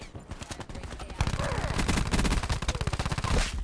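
Switchblade X9 submachine gun fire in Black Ops 4, heard as rapid automatic bursts: a lighter stutter at first, then a loud, sustained rattling stream of shots up close.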